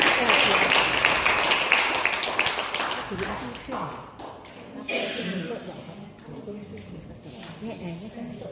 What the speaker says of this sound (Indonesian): Boleh berikan semangat tepuk tangannya sisi hari.